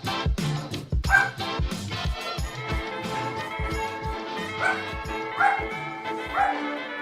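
A dog barks repeatedly in quick bursts, mixing sharp yips and whimpering yelps, fairly close and loud throughout, with some voices faintly beneath.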